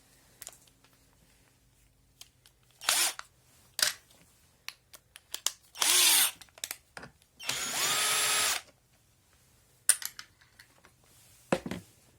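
A power drill bores a hole during repair of a Stihl MS 381 chainsaw starter cover, running in several short loud bursts of a few seconds each, separated by quiet pauses and small handling clicks.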